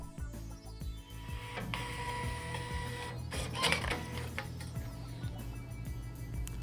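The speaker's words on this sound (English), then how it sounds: "Auto calibration in progress." Zebra ZT411 label printer running its auto calibration, giving close, steady mechanical whirring with rapid regular ticks and clicks as label media feeds through, plus a few louder clacks partway through.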